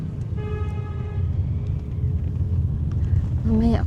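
Street traffic with engine rumble close by and several car horn toots, including a sustained horn early on and a bending honk near the end.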